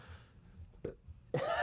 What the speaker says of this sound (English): Just burp into your jumper.